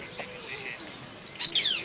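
Parrots call inside a geodesic dome aviary in Kevadia, Gujarat, with soft chirps building to a brief, louder burst of shrill, squeaky calls near the end, fairly close and heard without talk.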